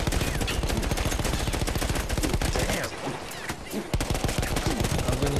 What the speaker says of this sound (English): I'm getting shot from everywhere.